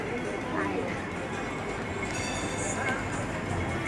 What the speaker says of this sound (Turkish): Tramvayımız.